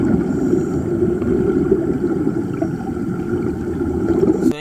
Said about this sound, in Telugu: మేము ఎక్కే బోట్ అయితే చాలా స్పీడ్గా వెళ్తుంది